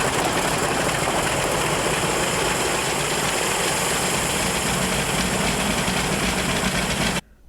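A Boeing 707 jet engine runs loud and steady during a ground test, a dense, broad roar with a low rumble that holds unbroken for about seven seconds before cutting away abruptly.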